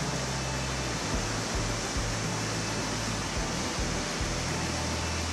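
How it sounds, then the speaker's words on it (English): A creek runs fast with snowmelt near a campground, a loud broadband rush of water that fills the whole clip steadily and close up, no voices. "Look at that water rushing."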